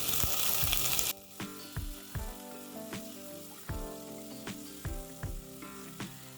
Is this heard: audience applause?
no